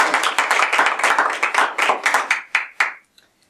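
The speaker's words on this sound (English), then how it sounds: "I'd like to just give him a round of applause." A small group at a Toastmasters meeting claps for a few seconds, the clapping thinning out and stopping abruptly, with no talking over it.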